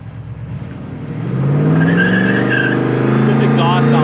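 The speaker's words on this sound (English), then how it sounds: "This exhaust sounds great." A 1970 Ford Mustang Fastback's exhaust rumbles loudly and climbs in pitch as it accelerates while driving, a deep continuous roar close by.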